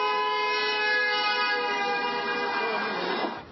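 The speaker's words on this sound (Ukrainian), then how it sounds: "Потоки проезжающих машин начали сигналить в клаксоны." Passing cars on a Moscow bridge honk their horns during a minute of silence at a protest memorial, blending into one loud, sustained blaring tone that cuts off abruptly near the end.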